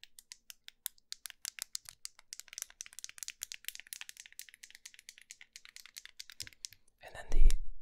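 Fidget cube buttons clicking rapidly, a dense run of sharp, close clicks and snaps at an uneven rhythm, ending in a brief rustle and a short spoken sound.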